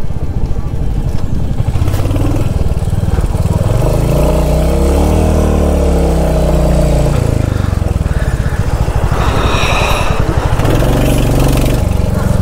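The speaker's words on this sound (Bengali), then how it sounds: "এবার অনেক কনফিডেন্টলি বাইকটা আমি চালাতে পারছি" A Royal Enfield Hunter 350 motorcycle on a monsoon mountain ride along the Silk Route from Padamchen to Zuluk drones loudly and steadily the whole time, its engine note rising and falling slightly under rushing wind.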